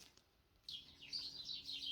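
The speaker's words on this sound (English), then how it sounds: "I think the birds in the garden are having a bit of a fight." Several garden birds squabble in a run of high, scratchy chirps and calls, starting after a quiet moment and continuing busily at moderate distance.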